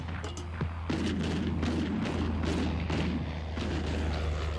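World War I anti-aircraft guns fire in rolling, repeated booms, heavy and sustained over a deep low rumble, with several distinct blasts following one another at a distance.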